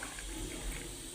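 Lukewarm, pre-heated water pours into a small tea glass in a steady, close, splashy stream that runs the full moment without pause or speech.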